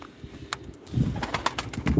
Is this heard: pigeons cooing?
yes